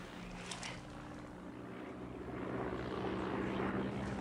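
A propeller airplane drones overhead, a steady engine hum that swells louder toward the end, heard alone without speech.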